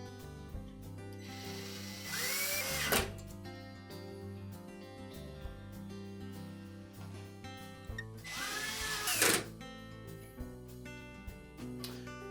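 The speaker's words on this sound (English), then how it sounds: "now we're ready to reattach the retaining screws" Power driver driving the retaining screws back into a Maytag dryer during blower wheel repair, two short whirring bursts a few seconds apart, close and clear against a quiet background.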